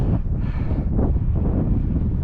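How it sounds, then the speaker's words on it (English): Heavy wind buffeting the microphone on a hiking trail in the Welsh hills, a loud continuous low rumble with gusty fluctuations throughout, no voices. "It's windy, apologies for that,"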